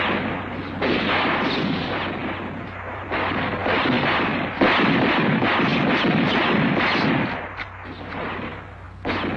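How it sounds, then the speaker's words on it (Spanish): Rapid sustained gunfire during shooting practice in an action film, dense overlapping shots booming continuously for several seconds, loud and close with no talk. "¿Dónde aprendiste a disparar así?"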